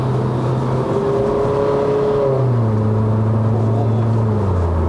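A bolt-on turbocharged Proton Inspira 2.0 with a CVT accelerates on a Malaysian road, the engine drone steady and loud from inside the cabin, its pitch sliding and rising as the boost builds.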